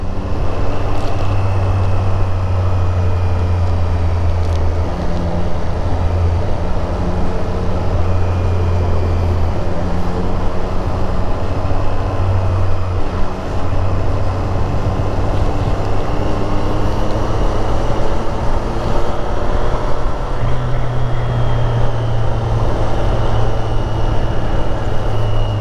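A 2024 Triumph Street Triple 765 RS three-cylinder engine on a test ride, a loud continuous drone with rising and falling tones as the revs change under constant wind rush, with no talk.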